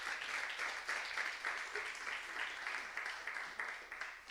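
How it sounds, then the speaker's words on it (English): An audience at a startup competition grand finale in Cape Town gives a sustained round of applause, even dense clapping that stays fairly quiet and distant throughout. "Let's give a big round of applause to Tamu."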